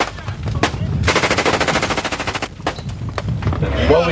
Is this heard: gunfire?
yes